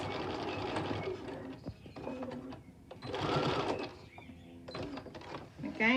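A sewing machine stitches a plastic pocket in bursts of rapid mechanical whirring, stopping and restarting with clicks and handling noises between runs.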